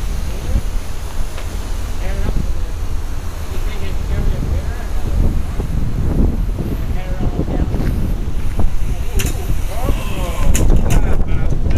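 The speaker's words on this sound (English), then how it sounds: "I told you it's windy." Strong wind buffets the microphone outdoors on a windy day, a dense low roar that continues throughout with gusty swells, while people talk faintly beneath it.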